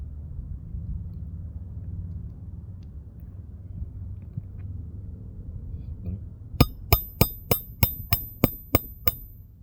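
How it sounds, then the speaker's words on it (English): A hammer strikes a surface eight times in a steady sequence of sharp, ringing blows after a stretch of low background rumble and faint handling noises. "Just watch it when I hammer"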